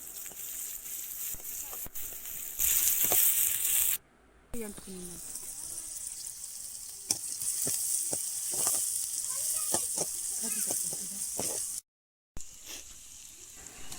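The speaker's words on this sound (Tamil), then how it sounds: "கடாயில் எண்ணெய் சூடானதும் கிராம்பு, பிரியாணி இலை, வெங்காயம் சேர்த்து வதக்கிட்டு" Cloves, bay leaf and onion fry in hot oil in a kadai, giving a steady hiss of sizzling with scattered spatters and spoon taps, close up. A voice speaks over the frying.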